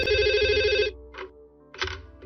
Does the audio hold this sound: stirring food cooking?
no